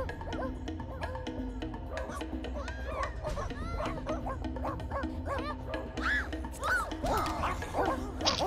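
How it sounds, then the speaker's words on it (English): Dogs bark in The Sims Castaway video game, repeated short barks and yips over a busy game soundtrack, with a person talking at times. "Ah, oh, invisible dogs!"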